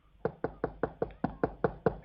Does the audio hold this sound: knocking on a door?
yes